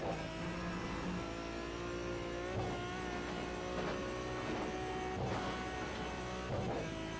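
A screaming V12 British GT race car, heard from on board on the Nordschleife, holds a loud, sustained high-revving wail, with a few brief dips where it bounces off the rev limiter.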